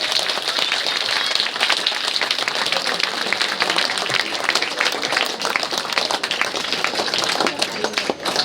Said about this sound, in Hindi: ताली बहुत धीरे है, बहुत जोरदार होनी चाहिए।